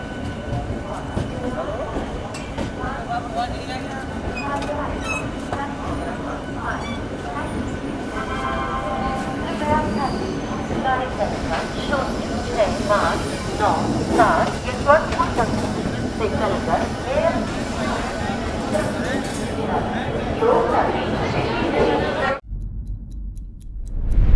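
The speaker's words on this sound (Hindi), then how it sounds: "दो ट्रेनों का एक साथ अराइवल, एक लोकल ट्रेन और एक अपनी अवध असम" Trains, a local train and the Avadh Assam Express, rumble and clatter steadily into busy Ghaziabad railway station, with a crowd murmuring and voices nearby, before the noise cuts off abruptly.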